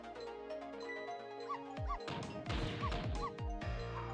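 Dog barking in the video game Ghost Trick, a few sharp bursts with crashing hits that rise over steady game music and sound effects, with no talking.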